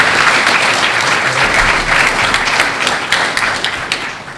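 An audience applauding at a fire academy graduation ceremony, dense sustained clapping from a large crowd indoors, steady and loud throughout before starting to thin slightly at the end.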